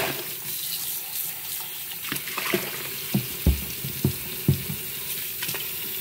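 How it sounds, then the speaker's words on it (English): Tap water runs steadily over tumbled garnet stones being rinsed in a sink, a constant hiss with a few sharp knocks and splashes as the stones shift, close and moderately loud. "we will rinse these off before we put them in the vibratory"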